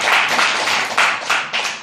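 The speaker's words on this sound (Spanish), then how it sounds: "un aplauso a Cristo" A church congregation bursts into applause, several quick loud waves of hand clapping in close succession filling the room, with no voices over it.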